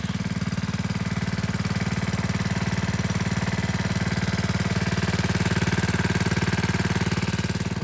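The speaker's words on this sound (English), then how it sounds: "just a standard firefighting pump, high pressure pump, and you can tell it's not working real hard" A standard high-pressure firefighting water pump runs steadily at an easy, unstrained pace, its engine putting out a loud, continuous throb close by, with no talking over it.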